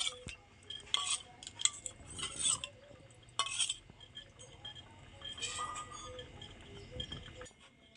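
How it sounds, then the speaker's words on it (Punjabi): Melted custard being stirred into milk with a spoon, light scraping and clinking against the pot in short bursts, fairly close and soft, with a voice talking faintly in places. "ਇਹਨੂੰ ਹੁਣ ਆਪਾਂ ਥੋੜਾ ਥੋੜਾ ਦੁੱਧ ਦੇ ਵਿੱਚ ਪਾਈ ਜਾਂਦੇ ਆ ਤੇ ਮਿਲਟ ਕਰੀ ਜਾਂਦੇ ਆ"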